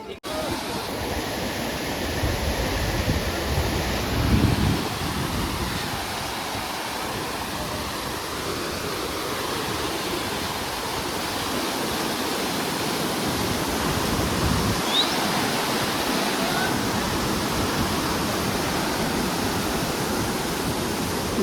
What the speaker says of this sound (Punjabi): ਗੋਬਿੰਦ ਧਾਮ ਤੋਂ ਜਾਂਦੇ ਹੋਏ ਪਹਿਲਾ ਝਰਨਾ